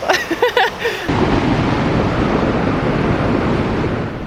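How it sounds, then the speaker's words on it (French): Strong wind roars loudly and steadily against the microphone near a bridge in western Canada, a dense rushing buffeting that takes over after a second of brief voices. "Oh là, il y a du vent."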